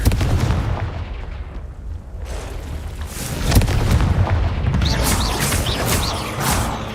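In the video game Hogwarts Legacy, the Confringo fire spell bursts with a sharp booming blast amid rumbling, crackling effects, one loud impact standing out near the middle.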